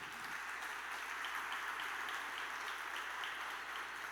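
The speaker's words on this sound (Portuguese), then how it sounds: "você pode dar um aplauso a Jesus" Distant, steady applause from a church audience fills the space evenly for a few seconds, a soft, continuous rush of many clapping hands.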